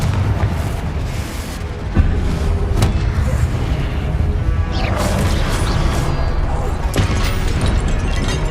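Confringo blast spell in Hogwarts Legacy, a series of loud booming impacts and crashing bursts over a dense rumbling battle din, with sharp hits recurring every few seconds.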